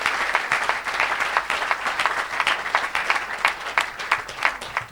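Congregation at a French-language evangelical church service applauding steadily, a dense continuous wash of clapping that stays loud and even throughout with no speech over it.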